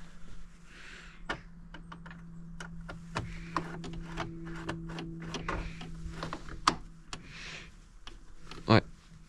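Ratchet clicks and small metallic ticks from tightening a screw with an extension and bit on a BMW E39, close and quiet in a sparse irregular series, with a faint hum under part of it.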